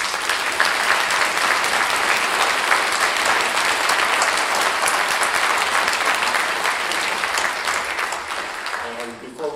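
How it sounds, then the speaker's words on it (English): A room full of people applauding at a parks forum hosted by the League of Women Voters and AAUW in Thousand Oaks, California, sustained dense clapping that holds steady, then thins out and fades at the end. "They deserve a wonderful round of applause."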